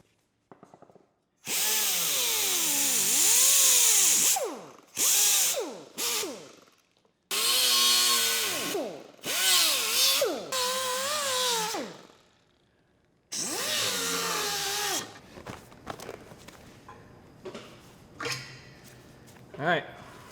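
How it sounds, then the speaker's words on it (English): Wire wheel on a power tool cleaning a TIG weld in a metal sign, loud whining bursts that rise and fall in pitch as it bites, separated by short stops. "we're gonna clean some of this up with this wire wheel to get down in the groove"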